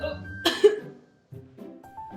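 A single sharp cough bursts out close and loud, followed by a short silence and then a quieter throat-clearing rasp.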